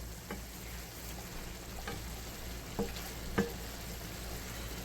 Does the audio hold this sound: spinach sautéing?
yes